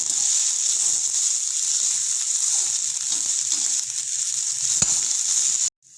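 Ginger sautéing in a pan over a high flame gives a steady, loud, continuous sizzle that holds evenly, with a faint knock near the end before it cuts off abruptly.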